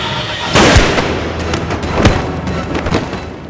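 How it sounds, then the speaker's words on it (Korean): Gunfire in a Korean drama scene: a few loud, close bursts of shots, the sharpest near the start and middle, over a dense noisy background. "아, 그쪽 총만 쏘고 있어요."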